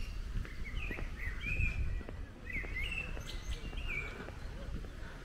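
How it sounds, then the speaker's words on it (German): A blackbird sings from a perch in the grounds of a Gran Canaria beach hotel, its clear fluting phrases repeating over several seconds, faint against outdoor ambience and low rumble. "das ist wie so eine Amsel. Das ist die, die man da so hört, oder?"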